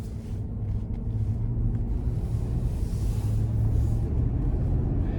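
A 2025 Chevy Tahoe Premier with its 5.3-litre V8 drives along, a low steady engine rumble and road noise heard from inside the cabin, moderately quiet and with no talk.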